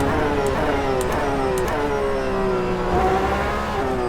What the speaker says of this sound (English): I'll say this car sounds a little different to what I remember.